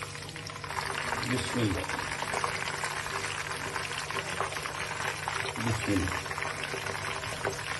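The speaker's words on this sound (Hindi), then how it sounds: "फ्लेम स्टार्ट है और घी गर्म हो गया है। बिस्मिल्लाह करके डालते हैं इसको।" Marinated chicken goes into hot ghee on a lit flame and sizzles loudly and steadily, a dense crackling fry that runs throughout while a voice speaks briefly over it.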